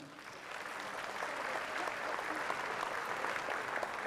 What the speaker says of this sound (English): How about a round of applause for Auntie, well, rather, kumuhula, Vicky Holt Takamine.